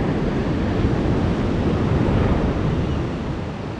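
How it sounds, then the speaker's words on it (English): Surf and flowing water at Rialto Beach where Ellen Creek runs out to the sea, a steady broad wash of waves with wind buffeting the microphone, loud and continuous. "And this is Ellen Creek. Just a little dribble of water flowing out to the sea."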